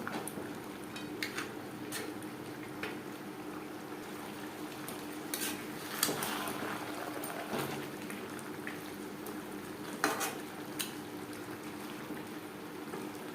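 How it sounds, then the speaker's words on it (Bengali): Fish head curry with Gobindobhog rice, cooked as Bengali muri ghonto, being stirred in a pot: a low steady bubbling simmer with occasional scrapes and clinks of the spoon against the pot, and no talking. "মাছের মাথা বেশ ভালো করে মিক্সড করে দেবো"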